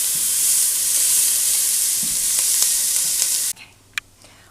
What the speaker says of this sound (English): While our onion and garlic is cooking